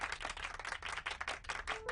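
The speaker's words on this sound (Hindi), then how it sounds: "लेडीज एंड जेंटलमैन, तालियां बजाकर स्वागत कीजिए मिस्टर संजय सचदेवा का।" An audience at a school event claps in welcome, a quiet, steady patter of many hands with no voices over it.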